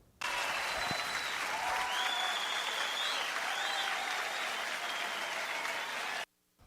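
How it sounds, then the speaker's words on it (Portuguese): A dense wash of Santos football fans' applause in a stadium, loud and sustained for several seconds before cutting off abruptly. "recebe aí os aplausos da galera do Peixe"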